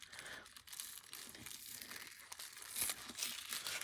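Tape tearing away from a thrifted craft-supply item, a continuous crinkly ripping and crumpling that runs steadily throughout at close range, fairly quiet, with no talking over it.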